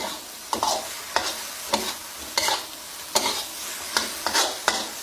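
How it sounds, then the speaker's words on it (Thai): Garlic and bird's-eye chillies stir-frying with chicken in a pan, a steady hiss broken by about eight sharp spatula scrapes at a fairly even pace, close and alone with no voices. "กระเทียมที่เราแบ่งไว้ ใส่ลงไปทั้งหมดเลย แล้วก็ผัดคลุกเขาให้เข้ากัน"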